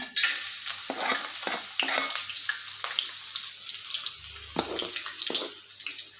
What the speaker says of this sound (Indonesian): Minyaknya panas, kita tumis bawang putihnya.